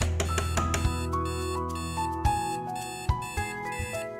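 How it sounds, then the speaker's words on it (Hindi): An alarm clock rings in a Hindi TV serial bedroom scene with a bright, repeating electronic melody of beeping tones. It plays loud and alone, with sharp rhythmic accents throughout. "अलार्म बज रहा है।"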